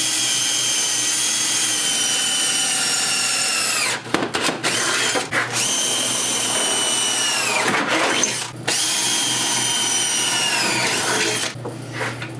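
A power drill drilling out bolts on a 2006 Club Car DS 48-volt electric golf cart battery tray, a loud steady whine that runs long, breaks briefly, then restarts twice.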